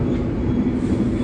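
A train rolls toward Surabaya at night with a constant near rumble of the carriage and a faint rhythmic clatter of wheels on track, with no talking.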